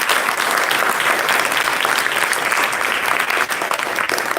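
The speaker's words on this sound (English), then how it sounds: "A big round of applause for each one of you." A large audience at a youth summit closing ceremony gives loud, sustained applause, a dense and steady roar of clapping hands that holds evenly throughout.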